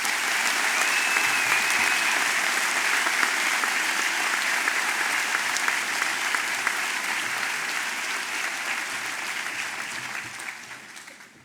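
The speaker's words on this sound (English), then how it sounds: "Please share a warm round of applause for the class of 1969." Graduation audience applauding the class of 1969 at a high school ceremony, a dense sustained wash of clapping from a large crowd that holds steady for about ten seconds before tapering off near the end.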